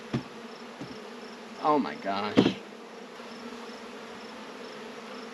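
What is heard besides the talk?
honey bees buzzing around hive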